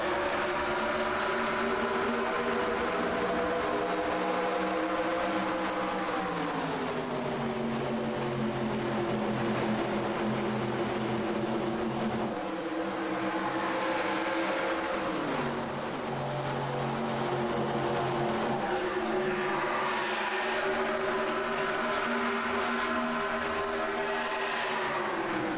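A pack of race cars in iRacing at Auto Club Speedway drones continuously with rising and falling engine pitch as they accelerate, loud and sustained throughout.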